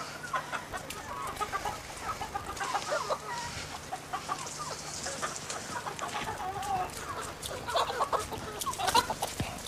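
Rain-soaked chickens cluck steadily and fairly close in a farmyard enclosure at the Big Brother Australia house, a dense run of overlapping clucks and squawks with no talk.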